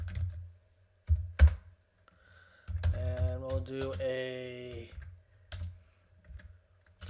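Close computer keyboard typing in bursts of quick clicks while entering terminal commands, with someone talking in between the bursts.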